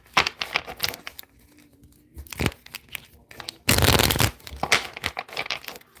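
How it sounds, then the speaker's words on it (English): Someone types on a keyboard or phone: quick, light clicking taps in irregular bursts, with one louder rustling burst midway, close and fairly quiet. "Here she go, y'all, typing her little Bible verses."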